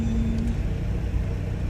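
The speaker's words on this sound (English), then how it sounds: "Where is the exhaust knocking?" A cheap old Citroën ZX hatchback creeps through a traffic jam, its engine a steady low rumble from the cabin with the reported exhaust knock lost in the drone, and no one speaking.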